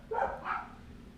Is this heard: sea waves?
no